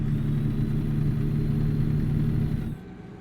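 A truck engine drones steadily in Euro/American Truck Simulator multiplayer, a low close rumble that drops off sharply near the end.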